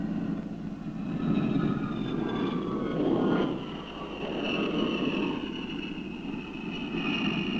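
An A-3D jet aircraft drones steadily overhead, a broad continuous engine roar with rising and falling whine, moderately loud with no voices.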